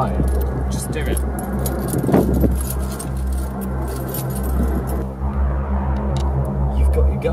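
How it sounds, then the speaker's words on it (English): A set of keys jangling during a tense handover, with a car engine rumbling steadily underneath and people talking close by. "Give me the keys."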